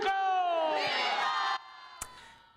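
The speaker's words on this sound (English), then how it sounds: "Look at these huge crowds. Big celebration." Huge crowds at a Mexican Independence Day celebration roar and shout together in one loud sustained burst of cheering, which breaks off abruptly and leaves a quieter murmur with a brief sharp cry.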